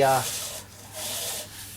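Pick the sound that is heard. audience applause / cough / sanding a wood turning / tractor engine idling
sanding a wood turning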